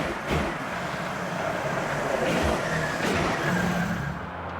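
A 1982 VW Rabbit MK1 with a Berg Cup kit and ABA engine idles while warming up after sitting for weeks, a steady close engine rumble with slight surges throughout.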